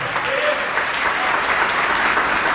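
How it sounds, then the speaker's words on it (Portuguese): A church congregation claps in a dense, continuous burst of applause, fairly loud and even throughout the short stretch, with no clear speech over it. "Então dê uma salva de palmas para Ele."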